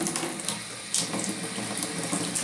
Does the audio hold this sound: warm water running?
yes